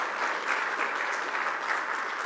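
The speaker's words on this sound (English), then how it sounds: "So let's give them a round of applause in the center." Audience members at a university town hall meeting clap together in a sustained, fairly distant round of applause, a soft dense patter of many hands with no speech over it.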